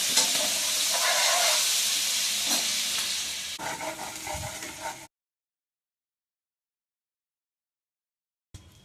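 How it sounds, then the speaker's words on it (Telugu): Ginger garlic paste frying in a pan for egg fried rice, with a loud steady sizzle and some stirring for about five seconds, then silence before a brief return of sizzling at the end. "అల్లం వెల్లుల్లి పేస్ట్ వేసుకుందామండి."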